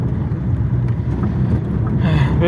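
A ZAZ Tavria car pulls away slowly in first gear, a loud, rumbling engine drone heard from inside the cabin with wind buffeting, and a voice speaks briefly near the end.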